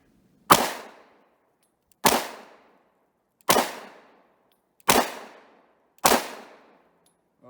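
Five sharp gunshots from a Romanian TTC Tokarev pistol in 7.62x25mm ring out at an outdoor range, evenly spaced about one and a half seconds apart, each with a short decaying echo.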